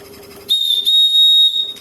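The whistle on a single-cylinder, double-acting marine steam engine with a Watt governor gives a loud, sustained shrill tone of about a second, with a hiss of steam at its start and end.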